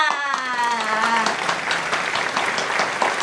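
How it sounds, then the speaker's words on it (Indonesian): Group clapping from children in a classroom reading lesson, a dense, steady round of claps with a brief tonal voice at the start and no speech over it. "Tepuk tangan untuk kita semua"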